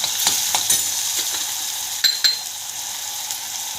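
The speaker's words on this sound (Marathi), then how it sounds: "कांदा चांगला भाजून घेतलाय।" Onion masala frying in a pan with turmeric and salt, a steady close sizzle broken by a few soft scrapes and clinks of the spoon as it is stirred.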